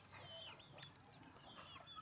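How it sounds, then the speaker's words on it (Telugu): Chickens clucking in a village yard where hens roam freely near smoke, with several birds calling in short overlapping bursts at moderate distance, steady background noise, and no talking. "కోళ్ళు పిలుస్తాను ఫ్రెండ్స్, వస్తాయి అన్నీ."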